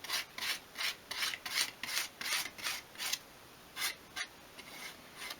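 Glue being spread across a wooden panel for a 1/12th scale garden shed, heard as quiet, rhythmic rubbing strokes about twice a second, close and soft with no voices.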